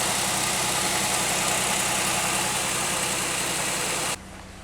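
A Pontiac Aztek engine runs roughly up close with an uneven, stumbling idle from a misfire before it cuts off near the end.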